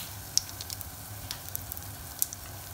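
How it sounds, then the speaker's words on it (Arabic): Potato and whiting maakouda patties frying in hot oil, a continuous soft sizzle with scattered crackles and a couple of sharper pops, close and fairly quiet. "نقلي المعقوده"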